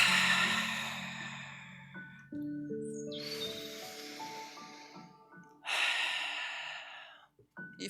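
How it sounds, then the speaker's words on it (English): Deep breaths during a meditation session: a long airy inhale and exhale open the stretch and another strong breath follows a few seconds later, close and clear over soft sustained background tones. "Inhale and exhale."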